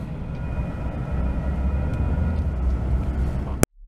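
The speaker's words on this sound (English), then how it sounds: "this is a pretty long train" A long train passes in Lockhart, Texas as a steady, loud rumbling roar that holds the whole time and then cuts off sharply.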